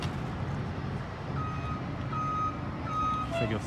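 A large bus idles with a low rumble at a bus stop while intermittent beeping tones and a brief hiss sound nearby as the bus lowers and rises.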